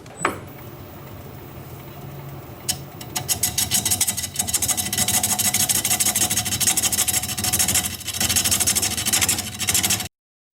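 A gouge cuts hard wood turning on a wood lathe, starting as a soft scrape and then becoming a loud, continuous rasping chatter with a pulsing rhythm that carries on until an abrupt stop.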